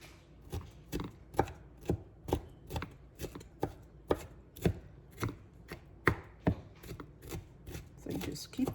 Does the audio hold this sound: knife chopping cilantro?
yes